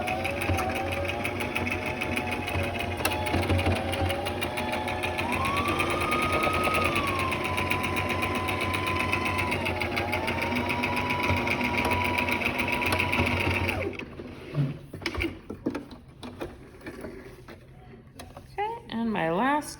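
A sewing machine runs steadily while stitching elastic onto the front of a home-sewn fabric mask, a continuous close mechanical whir for about fourteen seconds before it stops, leaving quieter handling noises.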